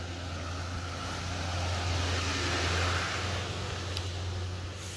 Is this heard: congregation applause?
no